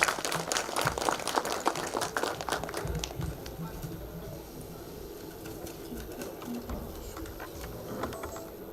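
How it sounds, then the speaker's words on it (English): An audience at an HR conclave at GL Bajaj Institute of Technology applauds to welcome a speaker: dense, fairly close clapping for the first few seconds, then thinning into scattered claps over a low murmur of room noise. "Can we have a big round of applause for her"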